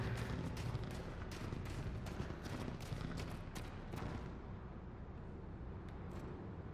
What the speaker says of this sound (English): Sound like gunshots in the distance.